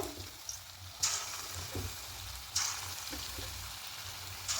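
Cabbage pakoras frying in oil over a low flame, a steady soft sizzle with a few sharper crackles and utensil clinks standing out now and then, no voices.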